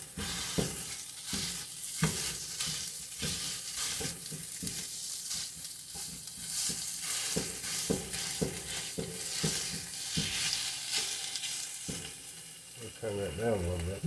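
Pork sausage frying in a pan, stirred and chopped with a big wooden spoon: a steady loud sizzle with regular scraping strokes throughout, and a voice briefly speaking near the end.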